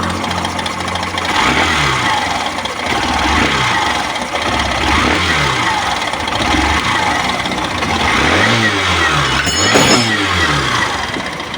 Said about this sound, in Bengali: গাড়ি স্টার্ট হয়ে গেছে এখন। পিক আপও কত সুন্দর হয়ে আছে দেখতেই পাচ্ছেন, শুনতেই পাচ্ছেন আওয়াজ।